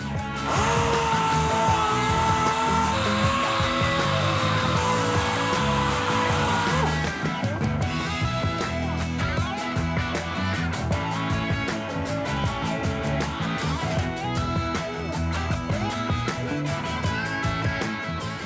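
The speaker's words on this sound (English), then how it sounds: "let's try the sander here" A power sander runs continuously on a rusty RA28 fastback Toyota Celica panel, a loud, close, unbroken whirring grind whose pitch wavers slightly as the tool works the metal.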